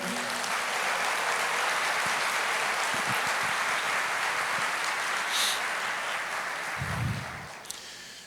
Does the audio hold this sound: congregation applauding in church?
yes